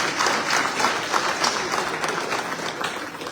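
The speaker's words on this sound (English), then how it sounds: "May we give a round of applause for His Excellency." An audience at the opening of the Mano River Union applauds a presidential keynote, giving dense sustained clapping that stays loud and even throughout.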